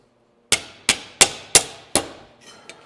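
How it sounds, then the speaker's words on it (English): Five sharp, evenly spaced hammer blows ring out close by as a steel MGA floor rail is bent over by hand, each strike decaying quickly, followed by a couple of fainter taps. "we'll just have to hammer it over"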